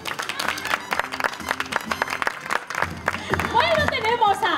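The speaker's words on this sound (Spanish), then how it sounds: "un aplauso para Lina" An audience at a children's theatre show applauds Lina, a helper on stage, with lively crowd clapping and some voices over it, then excited talk and a shout as the clapping thins.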